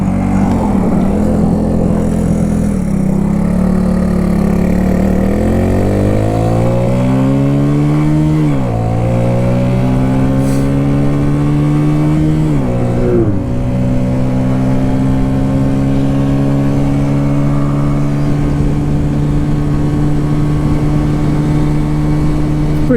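A barn-find Honda CB125S motorcycle engine runs loud and close, its buzzing note climbing through several rising revs and gear changes before settling into a steady high drone.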